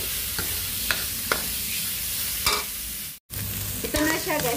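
Eggplant is stir-fried in a pan until browned, with a constant close sizzle and several sharp spatula scrapes and taps spread across the stretch.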